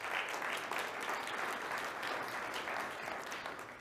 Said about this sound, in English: let's give a round of applause to the entrepreneurs in the room